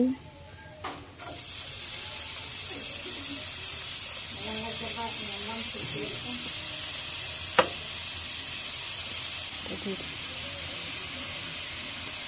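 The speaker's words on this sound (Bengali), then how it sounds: "কড়াইয়ে সাদা তেল দিয়ে আদা রসুনটা দিয়ে এবার একটু একটু করে পেঁয়াজ কুচি" Ginger, garlic and chopped onion sizzle steadily in white oil in a wok, a continuous frying hiss with occasional stirring clatter and a sharp clink, while people talk faintly in the background.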